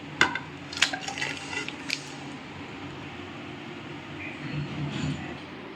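A pot of cooked hilsa fish with taro is lifted off the stove, bringing a few sharp metallic clinks and scrapes of cookware near the start, then a quieter kitchen background with faint sizzling.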